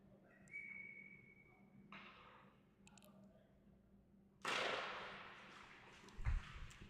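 A referee's whistle stops play during the third period of an ice hockey game at Winston-Salem Fairgrounds Arena, a short shrill tone standing out against crowd murmur, followed by a burst of noisy rink commotion and a thump.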